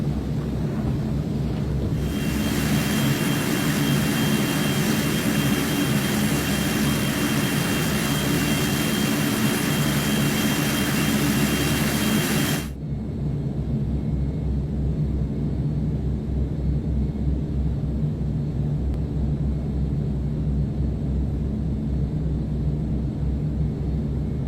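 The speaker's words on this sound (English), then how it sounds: "You can hear the engine power adjusting for the climb power." Fokker 50 turboprop engines roar steadily from inside the cabin during climb, a loud broadband drone that suddenly drops in level and tone as power is adjusted, then continues as a lower hum.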